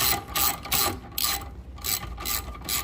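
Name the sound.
tightening a bolt on a Honda CR-V engine mount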